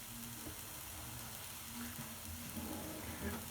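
Potato waffle with chicken and ham cooks inside a closed waffle iron, giving a soft, continuous sizzle and hiss with faint crackles, steady and fairly quiet.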